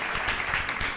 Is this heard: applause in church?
yes